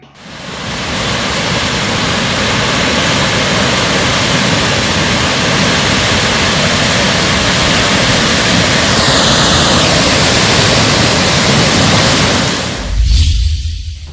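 Rushing floodwater from a flash flood in Kerala, a loud, dense, continuous roar of churning water that holds steady throughout before briefly breaking up near the end.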